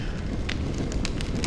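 Fire crackles in Honkai Star Rail, a steady low roar with scattered sharp pops and snaps, set in a rainy scene with no talking.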